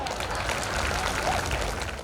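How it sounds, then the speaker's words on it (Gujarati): A seated audience at a Patel community association gathering in Surat claps together, producing a dense, steady patter of applause that holds for about two seconds before tapering slightly. "ભાઈ તાળી પાડો."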